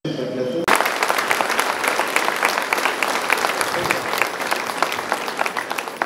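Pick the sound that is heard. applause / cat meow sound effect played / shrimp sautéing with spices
applause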